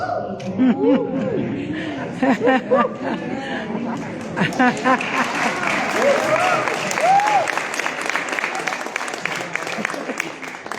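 Audience applause breaks out over a lively crowd, with voices and laughter mixed in; clapping swells and stays dense and steady through the second half.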